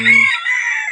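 A rooster in a small backyard coop lets out a brief, loud, close crow with a sharp onset and a sustained high call.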